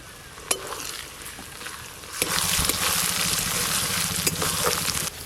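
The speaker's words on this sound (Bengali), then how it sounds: "আদা রসুন আর পেঁয়াজ একসঙ্গে তো ভাজা ভাজা হয়ে গেল, আর টমেটোগুলোও গলে গলে গেছে" Ginger-garlic paste, chopped tomato and onions fry in oil, starting as a quieter crackle with a sharp tap, then swelling into a dense, loud sizzle with stirring and occasional pops.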